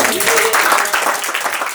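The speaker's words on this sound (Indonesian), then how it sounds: "tepuk tangan dulu buat Mas Upi dong." Audience applause and clapping at an alumni gathering of a design faculty, a brief steady burst of many hands with voices mixed in throughout.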